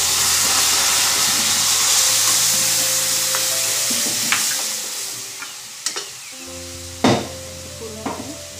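Ground masala spice hits a hot pan while masala eggplant cooks, giving a steady close sizzle and hiss, followed later by a few sharp clinks and scrapes of stirring.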